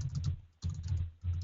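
Three quick bursts of clattering computer keyboard typing, close and moderately loud, separated by brief silent pauses.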